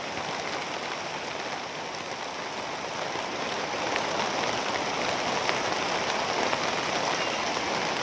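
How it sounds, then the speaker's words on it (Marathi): Heavy rain with big drops pours down outdoors in a dense, continuous hiss and patter that grows slightly louder partway through, with no voices. "पावसाने तर लावली हजेरी."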